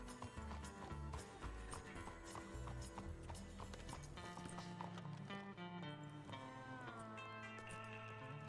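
A horse in the Western roleplay game RedM clip-clops with steady hoofbeats under game music, with an occasional whinny.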